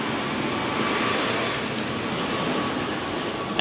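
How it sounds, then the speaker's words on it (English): An airplane passes overhead near Sydney Airport, heard as a steady, continuous broadband roar with no talking, holding fairly loud and even throughout. "So it's got a plane flying over there."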